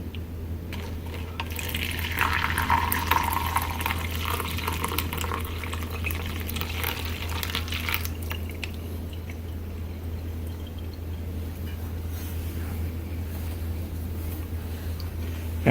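Hot dissolved Crystal Light solution poured through a coffee filter gives a soft, continuous trickle and splash close by, over a steady low hum, fading to quiet dripping.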